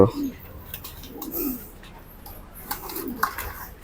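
Racing pigeon hens coo in soft, low repeated phrases from a loft, with someone talking nearby and light background noise.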